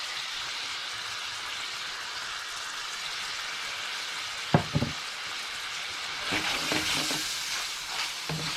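Ground beef for Chilean empanada filling sizzles steadily in a pan after a sprinkle of plain flour, with a soft continuous crackle and a few louder clacks and scrapes of stirring toward the end.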